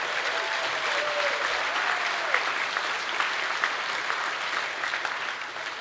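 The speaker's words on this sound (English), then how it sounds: "So let's give Ralph Reed a big round of applause." A luncheon crowd at a Georgia faith and freedom legislative event gives a round of applause: steady, fairly loud clapping from a full room, with a few distinct sharper claps and a brief voice rising over it early on.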